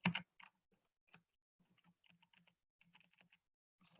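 Someone types on a computer keyboard in short, uneven clusters of soft, close key clicks with gaps of silence, quiet and alone without speech.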